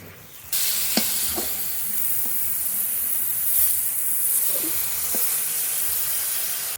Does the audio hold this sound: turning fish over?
yes